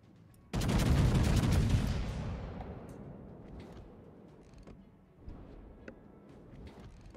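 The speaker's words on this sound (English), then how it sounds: "Shots out on the Puerto Rico." Heavy naval guns fire in a warship battle game, opening with a loud booming volley whose roar rolls on and fades over several seconds, followed by a few fainter distant reports.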